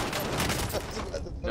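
Dense bursts of gunfire in the shooter game Warzone, loud and rapid at first, then thinning toward the end.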